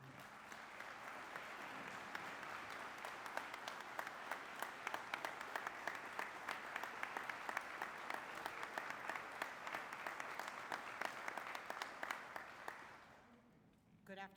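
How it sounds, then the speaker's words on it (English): Sustained applause at a St. Louis building-trades community event, many hands clapping steadily for over ten seconds with sharper individual claps toward the end, then trailing off into quiet. "Thank you for the applause and thank you for the standing"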